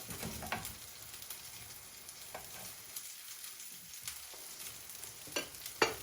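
Quinoa burger patties frying in a pan, a steady low sizzle running throughout with a few sharper pops and crackles near the end, fairly quiet and with no talking.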